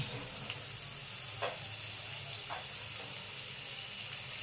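Small salted potato pieces hiss quietly in hot oil, giving a soft, even sizzle with a few faint clicks and stirs and no talking.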